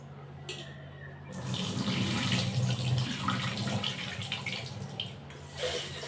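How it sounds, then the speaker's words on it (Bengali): Rice is washed under running tap water, a steady close splash and gush of water after a quieter start, with faint clatter and swishing as the grains are rinsed. "তাই চাল ধুয়ে নিচ্ছি আর কি"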